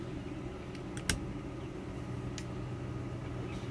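A camper's furnace clicks on after a 12-volt electrical repair, giving one sharp, close click over a steady background hum, with a couple of fainter ticks around it.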